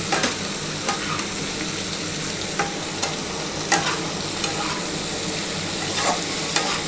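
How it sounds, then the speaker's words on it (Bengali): Small fish and potatoes frying in a pan as chili powder is stirred in, with a steady sizzle and scattered spoon scrapes and taps over about seven seconds. "এটা ভালো করে একটুখানি নাড়াচাড়া করে নিয়ে এর মধ্যে আমি টমেটো কাঁচা লঙ্কাটা দিয়ে দেবো"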